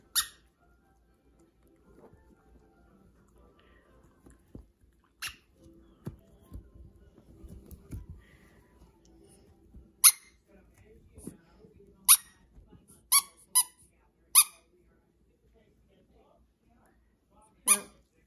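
A dog chews orange squeaky toy balls, sending out a series of short, bright squeaks spread irregularly over the clip, with soft patter and chewing noise between them.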